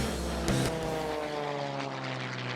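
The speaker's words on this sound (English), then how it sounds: "the airplanes overhead tumbling and rolling across the sky" Propeller airplanes performing tumbling, rolling aerobatics over an air show produce a steady, droning engine roar with a faint rising and falling pitch, filling the whole moment with no voices.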